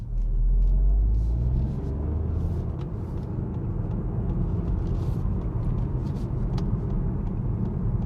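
A 2021 Ford Puma ST's 1.5-litre three-cylinder engine drones steadily while driving, a continuous low rumble with road noise heard from inside the cabin, no voices.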